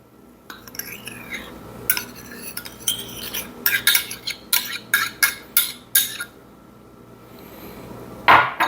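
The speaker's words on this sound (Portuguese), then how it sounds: "Vou misturar estes ingredientes secos" Dry gluten-free pizza dough ingredients being mixed in a bowl, a run of quick scraping, tapping strokes of a utensil against the bowl, close and fairly loud, ending with a brief louder knock.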